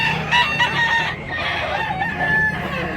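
A rooster in a rural Philippine yard crows continuously over soft clucking, close and fairly loud, with no talking.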